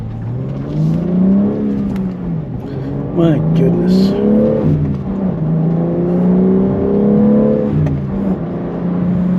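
A 2022 BMW M3 accelerates hard, its engine note climbing through rising gear sweeps with brief dips at the shifts, loud and close from inside the cabin, with a short exclamation from the driver over it.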